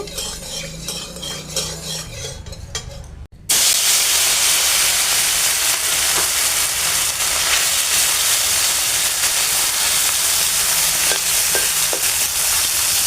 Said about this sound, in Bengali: এবার তেলটা গরম করে মাছগুলো ছেড়ে দেব